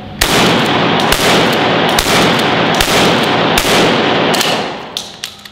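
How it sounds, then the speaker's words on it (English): A Remington Tac-14 shotgun fires buckshot rounds in a rapid series of about six loud, close blasts roughly one second apart, each with a sharp crack and a short ringing tail, with no talking. "So 5 rounds of buckshot"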